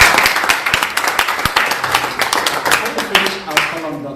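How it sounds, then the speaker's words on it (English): Audience clapping for the lecturer Omoyele Sowore at the close of a university lecture, a dense, loud spread of claps with sharp individual strikes, voices mixed in underneath. "Can we give a round of applause to"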